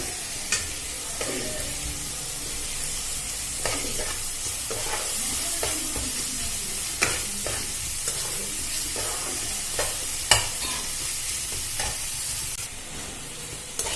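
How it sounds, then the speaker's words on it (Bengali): Ginger and green chili paste fries with ground spices in oil, a continuous near sizzle with frequent scraping strokes and occasional clacks of a spoon in the pan. "এটা এর সাথে দিয়ে ভালো করে আবার ভেজে নেব।"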